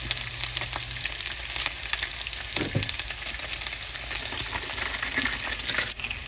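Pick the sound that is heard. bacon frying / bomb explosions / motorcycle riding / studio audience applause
bacon frying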